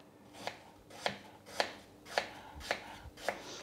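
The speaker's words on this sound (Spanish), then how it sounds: "Y ahora las vamos a ir troceando de un tamaño ni muy grande ni muy pequeño" A knife chops quartered, cored apples into medium pieces on a board, six crisp, evenly spaced chops in a slow steady rhythm, close and clear.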